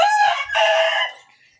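Roosters and chickens kept as fancy and flying breeds crow loudly and close by, a single drawn-out cock-a-doodle-doo lasting about a second before fading, with no talk over it.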